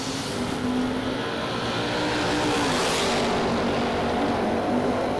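Drag race cars, including a Mopar in the left lane, launching at a drag strip during a bracket racing event, a loud, sustained engine roar with a rising and falling pitch that dominates throughout.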